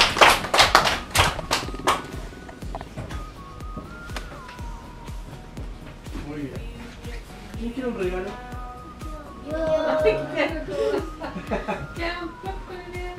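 Burst of scattered clapping at the start, then lighter taps, with children's voices and laughter over it, at a dental outreach visit in Contulmo, Chile.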